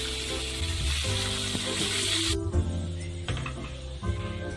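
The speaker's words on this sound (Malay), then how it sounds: "Kemudian kita tumis bahan yang dikisar. Kita percik minyak panas." Ground spice paste sizzles and spits in hot oil, a loud crackling fry at first that settles into a quieter, steady bubbling with occasional stirring clicks.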